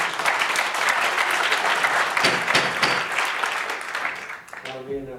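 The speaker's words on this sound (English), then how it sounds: "we'll have no applause during the meeting" Loud, dense applause fills a public hearing on federal land in Utah, sustained for several seconds before tapering off near the end as a voice begins to speak.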